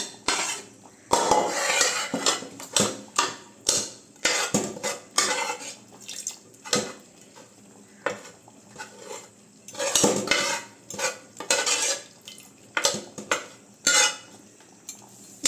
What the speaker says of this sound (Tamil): அதை நல்லா கரண்டியிலேயே நல்லா மசிச்சு விட்டு அதில் சேர்த்துக்கலாம்